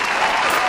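Steady burst of applause from a small group at a home magic-trick performance, dense and continuous clapping for under a second.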